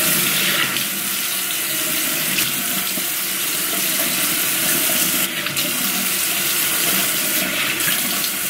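Water runs steadily from a tap into a sink while a honey face mask is rinsed off, a loud, continuous close-up rush with slight splashing changes and no voices.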